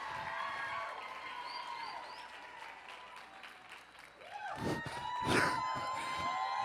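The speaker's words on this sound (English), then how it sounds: "We got a cheering section for you" An audience at a real estate event bursts into applause and whoops for a speaker, with a steady crowd murmur that rises into a louder round of clapping and cheers midway through.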